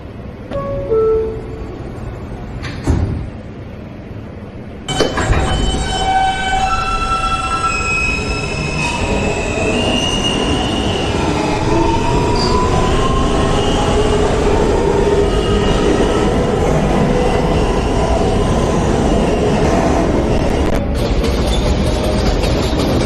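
New York subway L train running between stations toward Broadway Junction: rising motor whine at departure, then a loud, steady rumble of wheels on track with squealing tones, heard from inside the car.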